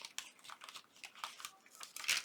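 Paper being smushed and crumpled by hand for a junk journal, a close, quiet run of crinkling rustles with a slightly louder crunch at the end.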